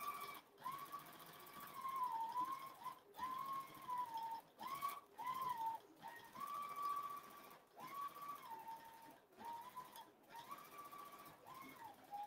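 A quilting machine on a Cutie frame stitches an automated edge-to-edge design, its motor whine steady and close, rising and falling in pitch and briefly cutting out several times.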